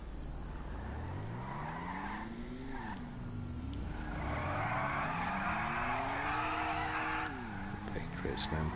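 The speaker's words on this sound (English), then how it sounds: "Another one, got a lovely sounding engine." A Morgan car engine runs and revs close by, its pitch rising and falling in repeated sweeps, with tire squeal sounding over it and a voice talking in the background.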